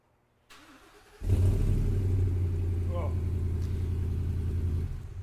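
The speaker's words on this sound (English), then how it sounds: "deep, low exhaust note. That sounds like a big block gas engine to me." A 2020 Ford Super Duty 7.3 gas engine with performance exhaust starts and settles into a deep, steady low rumble, loud and close, running continuously.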